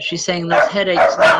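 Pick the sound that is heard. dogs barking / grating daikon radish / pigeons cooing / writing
dogs barking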